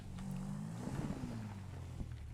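Motorcycle engine in GTA 5 running steadily with a droning, slightly wavering tone and some revving, mixed with a continuous rushing background, with no talk.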